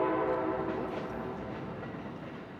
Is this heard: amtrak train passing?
yes